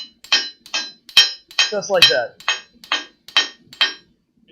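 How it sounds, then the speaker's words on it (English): A forging hammer strikes hot metal in a forge, landing about ten sharp, ringing blows in a steady, evenly spaced rhythm, close and loud. A brief spoken phrase comes partway through. "My hammer is always landing in the same spot."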